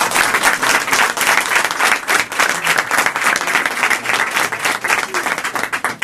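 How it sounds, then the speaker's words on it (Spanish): Audience applause at a street awards ceremony on Calle Huesca, dense steady clapping from a crowd lasting the whole stretch, loud and close with overlapping hands. "pedir un aplauso para Carlos, que nunca le hemos dado un aplauso"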